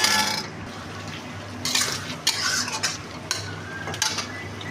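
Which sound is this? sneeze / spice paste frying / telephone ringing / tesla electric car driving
spice paste frying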